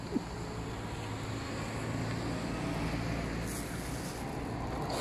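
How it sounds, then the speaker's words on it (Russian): A city bus passes on a street in Birobidzhan, a steady broadband road rumble that swells slightly mid-clip, with no voices and a light wind-like hiss over the traffic. "Не мой автобус."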